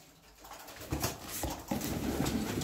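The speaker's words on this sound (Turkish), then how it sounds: "Yeni kuşlar getirdim." Milk-white game pigeons cooing softly at close range, low, fluttery coos with some rustling and handling noises, faint and quiet overall.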